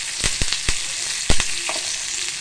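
Cumin seeds, black peppercorns and curry leaves sizzling in hot oil while a fish masala is prepared, with a steady frying hiss and several sharp spoon scrapes against the pan.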